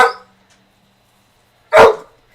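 A dog gives two loud, sharp barks close to the microphone, one at the start and another about two seconds later, with near silence between them.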